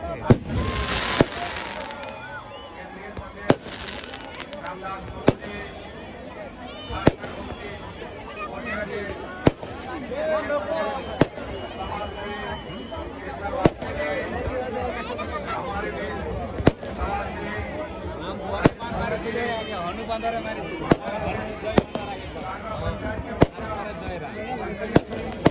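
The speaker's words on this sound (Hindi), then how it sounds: "और घमासान आतिशबाजी हो रहा है।" Dense, continuous fireworks crackle and boom at an outdoor Ravan Dahan effigy burning in Kandra, with sharp bursts every couple of seconds over a busy crowd hubbub and voices throughout.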